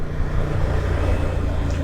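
A Honda Transalp motorcycle engine thrums steadily while riding, with a close, loud low-pitched drone and wind rush. The engine tone stays fairly constant throughout.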